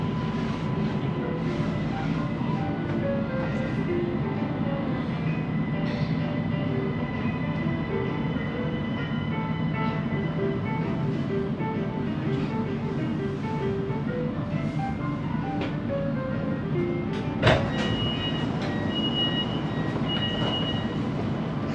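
A Siemens Inspiro train on the SBK Line rolls along with a steady loud rumble and a weird rolling noise, with stepped tonal whines rising and falling and a sharp clank near the end, heard from inside the carriage.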